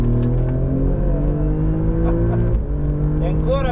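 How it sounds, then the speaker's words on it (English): Alfa Romeo Giulia GTA pulling hard at full throttle in third gear, a loud, close engine note rising steadily in pitch with a brief dip near the end, a voice talking over it. "gas completamente affondato"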